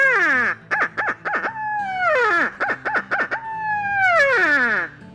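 A hand-held owl call blown to imitate a barred owl's 'who cooks for you' hoot during a Merriam's turkey hunt in the Black Hills of South Dakota: loud, close, rhythmic series of hoots with sharply falling pitch, repeated in several phrases.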